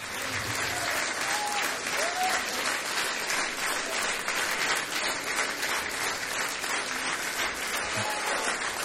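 A theatre audience gives a loud, sustained ovation with dense clapping at the end of the ballet Spartacus, the applause steady and full throughout with a few cheers mixed in.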